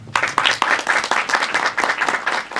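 An audience claps at a Kannada film song launch event for Premam Madhuram, a dense burst of crowd applause with steady, rapid claps that holds at a fairly even level throughout, with no voices clearly heard over it.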